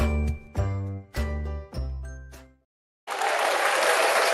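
A few ringing jingle notes play, a short silence follows, and then a sudden burst of dense applause begins near the end.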